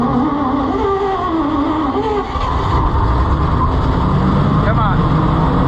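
An Oliver 7300 combine's Chrysler 318 V-8 engine runs loud and rough nearby, with a wavering pitch early on before settling into a heavy steady rumble, while someone talks over it.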